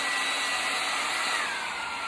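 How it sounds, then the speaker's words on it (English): A hair dryer with its heat setting switched on, running in a garage, blows a loud, steady broadband whoosh that fills the whole moment without a break, with no voices. "So we'll turn on our hair dryer, turn on the heat"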